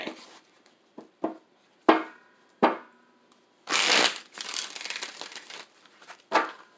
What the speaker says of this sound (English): All right, final shuffle, guys.